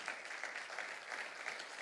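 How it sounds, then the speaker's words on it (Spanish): Audience applause at a Spanish-language talk on leadership and spirituality, a steady, even wash of clapping from a crowd that holds at one level throughout, with no speech over it. "Dale un aplauso al Señor también por eso."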